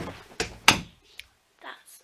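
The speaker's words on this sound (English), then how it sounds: "Just gonna move these bags so I can shut this door" An indoor door is pushed shut with a couple of solid thunks close by, followed by a few faint knocks and rustles in an otherwise quiet room.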